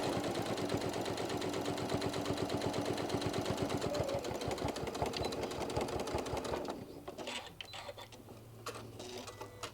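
A sewing machine stitches an oven mitt with a fast, even mechanical rattle that runs steadily for several seconds before stopping, leaving quieter handling noises.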